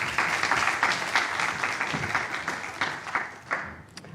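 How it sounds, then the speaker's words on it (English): Audience applause for a speaker at a chemistry and reinforcement learning workshop, a steady round of clapping from a modest room crowd that thins out toward the end. "So please give a warm round of applause for Elise"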